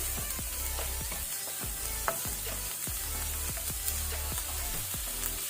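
Onions frying in a pan over a medium flame, a steady close sizzle with repeated soft scrapes of stirring, continuous and without talk.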